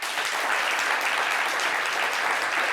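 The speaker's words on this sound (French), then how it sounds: "Applaudissez pour ce couple." A studio audience applauds a couple on a television talk show, giving steady, even clapping from many hands that carries on without a break and without speech.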